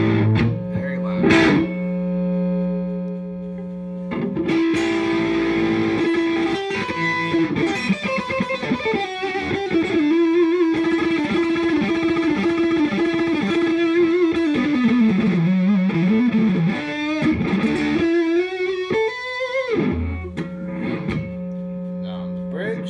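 Electric guitar run through a Panama Loco overdrive pedal with the gain turned up, played loud as saturated sustained chords and bending lead lines with thick distortion, a brief pause early on, then continuous playing.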